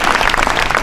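A brief moment of a dense crowd applauding at an Independence Day ceremony honoring a soldier named Diwan Singh, steady and fairly loud with no talk over it.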